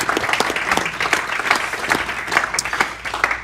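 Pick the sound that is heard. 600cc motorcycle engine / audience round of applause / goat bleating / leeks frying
audience round of applause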